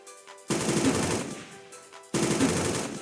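Video game gunfire in two loud, sustained bursts of rapid automatic fire, each starting abruptly and running about a second and a half, with a short quieter gap between them.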